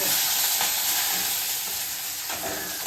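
Onion, green chili, crushed garlic and curry leaves sautéing together for a carrot stir-fry, a loud, dense hiss of oil that stays constant and close, with faint stirring.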